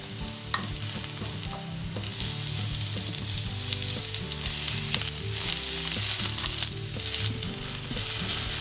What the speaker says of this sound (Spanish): Sofreímos las verduras, empezando por el ajo